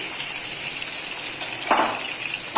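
Chicken frying in hot oil for biryani, a steady bright sizzle with a brief louder burst of crackling near the end, close and alone without speech.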